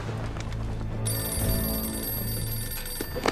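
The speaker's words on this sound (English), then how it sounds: "the phone in Bakkerer's bunker rings" A telephone rings in a wartime bunker, steady sustained ringing with a bright electronic tone that holds across the whole stretch, loud and close under a low background hum.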